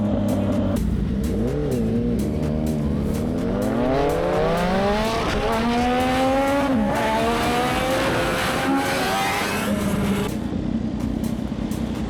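A Yamaha MT-09 motorcycle engine revs and pulls hard while riding, its pitch climbing through sustained acceleration before easing off, loud and close over wind noise.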